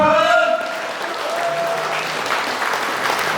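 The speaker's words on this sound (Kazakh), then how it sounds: "Сыйлап келсеңіздер шапалақ ұрасыздар." An audience claps loudly at an 80th-birthday celebration, a dense burst of applause that is strongest at first and then settles into steady, thinner clapping, with a voice speaking over it.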